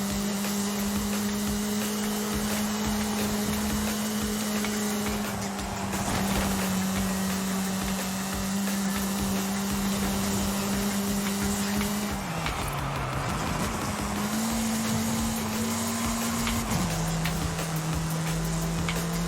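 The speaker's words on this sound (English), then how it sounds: "this car has a lot of noise" Car engine in the Forza Horizon 5 racing game, a continuous buzzing drone that holds a steady pitch, dips and wavers briefly, then settles at a slightly lower pitch, constant and fairly loud throughout.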